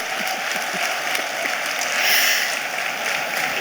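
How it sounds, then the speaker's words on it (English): Applause fills a formal ceremony hall after an introduction of Lagos State Governor Akinwumi Ambode, a steady dense clapping from a large audience that swells slightly midway and holds for several seconds without talk. "A round of applause for His Excellency Governor Akinwumi Ambode."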